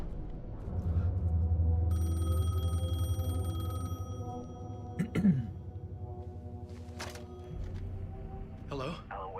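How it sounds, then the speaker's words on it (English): In the video game Alan Wake 2, a payphone rings with a bright, tonal electronic ring that holds for a couple of seconds over a low droning ambience, followed by sporadic sharp noises and faint sounds later on. "The payphone was ringing."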